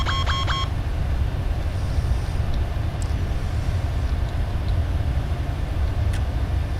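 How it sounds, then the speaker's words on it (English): In Microsoft Flight Simulator 2020, a cockpit warning sounds as a quick burst of repeated electronic tones right at the start, calling for the spoilers to be retracted, over the steady low roar of the engines. "That little whistle there was telling me that I need to bring in my spoilers."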